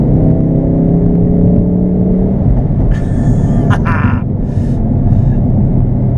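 A Ford Focus RS engine rumbles loudly with a rising, droning rev that fades off, followed by a few brief higher-pitched mechanical or voice-like bursts over a continuous low engine hum.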